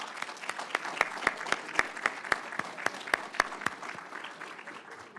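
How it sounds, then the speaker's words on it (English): An audience at a metro operations graduation and promotion ceremony applauds the graduates. The clapping is steady and moderately sparse, with individual sharp claps standing out clearly from a small crowd for about five seconds, with no talking. "Let's give another round of applause to our graduates."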